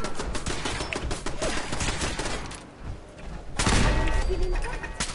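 Automatic turret fire in Fallout 4 crackles in dense, continuous bursts with a heavy burst late on, loud and close, mixed with other combat noise and some talk.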